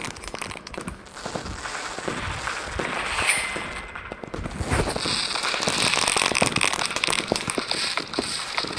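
Fireworks going off in a fireworks simulator game, a dense run of crackling bursts and pops that swells louder and thicker in the second half, with no talking.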